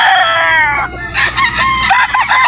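A Boston Gray gamecock rooster crows loudly and close, one long wavering call followed by shorter broken clucking notes, heard alone.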